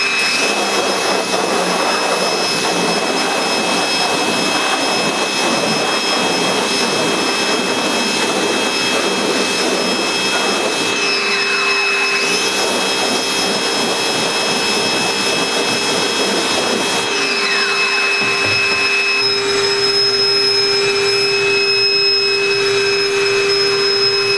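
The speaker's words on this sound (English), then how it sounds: "I'm going to take my pressure washer and then just hit it once" A loud, continuous pressure washer roars at close range as it sprays out a screen printing screen, a high steady hiss with shifting tone as the spray moves, no talk.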